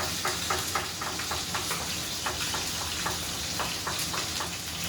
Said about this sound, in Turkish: Tavuklar bir yandan kızarırken diğer yandan sarımsakları doğruyorum.